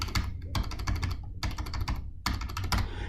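A credit card number being typed on a computer keyboard, heard as rapid, close clusters of key clicks in three or four bursts separated by short pauses.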